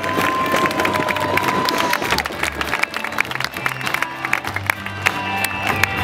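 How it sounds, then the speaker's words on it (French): Audience applause and cheering fill the room at a club event honouring the flag of the Equiblues team, a steady dense clapping wash with crowd noise and some voices mixed in throughout. "Et sous vos applaudissements"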